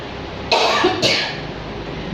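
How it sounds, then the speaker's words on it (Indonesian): Two quick harsh coughs close by, one right after the other, over a steady background hiss. "Sekarang baru batuk lagi"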